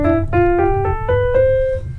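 Piano scale played without the sustain pedal, about six distinct notes stepping upward at an even pace, each with a clear attack and a short gap between them, close and alone.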